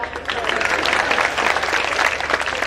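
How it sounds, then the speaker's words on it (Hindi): An audience claps for a poet at a Hindi poetry gathering in Lucknow, a steady dense wash of applause lasting the whole moment, with talk mixed in over it. "आप मेरे को भी बधाई दे दो, ताली बजाओ"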